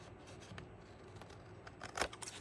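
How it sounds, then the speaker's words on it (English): Adhesive scissors trim excess paper pieces from a handmade craft card, producing a few quiet, close snips that cluster near the end over a soft background. "Now these excess pieces, I'm going to use my adhesive scissors."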